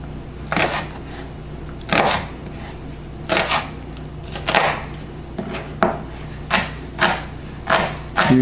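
A knife dicing a flattened onion on a cutting board, a series of sharp, distinct chops at an uneven pace, about ten strikes, close and clear with no talking.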